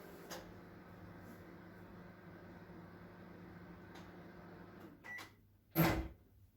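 A microwave oven heating a bowl of homemade Kinder Bueno dough hums steadily for several seconds, then a couple of soft clunks and a sharp, bright click or beep sound near the end.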